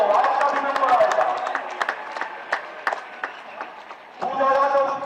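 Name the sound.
applause for award-winning athletes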